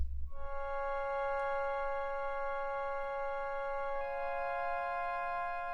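A sustained, bright synthesizer pad built from saw and acid waves with band-pass filtering and effects holds steadily, buzzy and harmonically rich, shifting pitch slightly partway through, with no voices.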